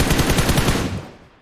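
A rapid, loud burst of M249 machine gun fire in a shooting video game, the rattling volley running for about a second before tailing off into a fading echo.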